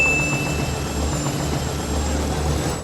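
Military helicopter in the film Independence Day, a steady low rotor and engine rumble with a thin whine on top, holding at an even loudness and heard alone without talk.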